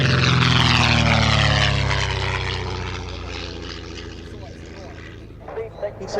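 A vintage propeller aircraft at an air show drones loudly overhead, its engine sound sweeping down in pitch and fading as it passes, while a commentator talks over it and a few bumps sound near the end.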